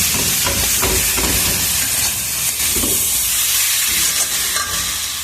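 Pumpkin sizzles and hisses steadily in a hot pan for kumror choka, a dense close frying crackle with occasional stirring scrapes and no voices.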